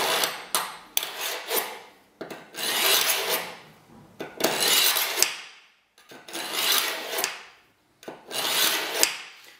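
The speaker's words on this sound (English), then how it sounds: "I can feel as I pull it through, it gets caught up on some of these grooves and dents that are in here." Knife blades pulled repeatedly through a military carbide sharpener, dull and badly nicked, giving five or six loud rasping scrapes, each a couple of seconds long with short gaps between.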